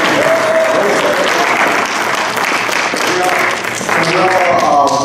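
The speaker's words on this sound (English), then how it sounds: "Just give a big clap for him." Congregation clapping loudly in church, a dense sustained round of applause with voices calling out over it throughout.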